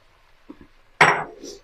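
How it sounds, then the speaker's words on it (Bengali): Fried beetroot tipped into a pan of frying spice paste: faint clinks of a utensil, then a sudden loud sizzling burst as it hits the hot oil, fading into a softer fry. "আমরা যে বিটটা ভেজে রেখেছিলাম সেই বিটটা পুরোটা দিয়ে দেবো"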